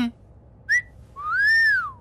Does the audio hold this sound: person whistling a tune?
yes